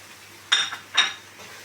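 Spoon clinking against a pot while spices are stirred into frying onions for basmati rice, two quick metallic knocks close by, with no talking.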